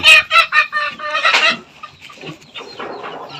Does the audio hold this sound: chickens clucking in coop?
yes